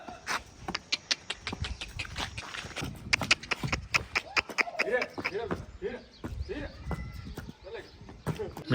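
A young colt, just released, clatters its hooves in quick irregular clip-clops, close and sharp, while people talk nearby.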